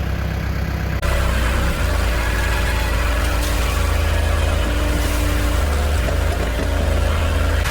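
A tractor engine idles steadily nearby outdoors, a continuous low rumble with a mid-range whir that holds throughout with no speech over it.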